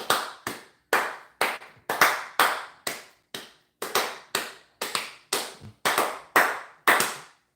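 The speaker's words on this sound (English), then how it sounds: "That church clap." Sharp church-style hand claps ring out about twenty times in a quick, slightly uneven rhythm, often in pairs, close and alone in a quiet room.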